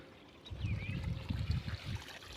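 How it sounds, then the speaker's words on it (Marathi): Borewell irrigation water trickling and splashing steadily into a wheat field nearby, a low gurgling flow that rises and falls, with faint wind noise in the background. "चालू आहे पाणी मस्त भिजायला लागले"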